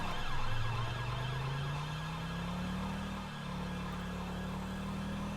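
Emergency siren in GTA V with a UK police mod, a continuous wailing tone sliding slowly upward, moderately loud over a low road rumble.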